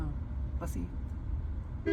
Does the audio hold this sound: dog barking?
no